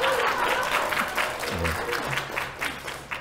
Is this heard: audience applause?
yes